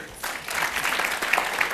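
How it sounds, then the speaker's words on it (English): Audience applause at a time management talk, a short burst of clapping that swells quickly and holds steady, dense and fairly close for under two seconds. "Give him a round of applause."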